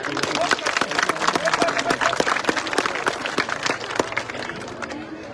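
An audience at a public event honouring a paramilitary soldier claps for his wife, a dense, steady round of applause from a crowd that carries on for several seconds and eases slightly at the end.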